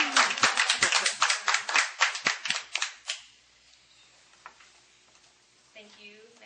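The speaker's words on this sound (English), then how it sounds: "applause." An audience at a Toastmasters meeting claps for about three seconds, a brisk burst of applause that quickly fades into room quiet and faint shuffling.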